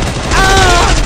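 Loud, dense gunfire from a shooter video game fills the short burst, a sustained crackle of shots at close range with no clear break between them.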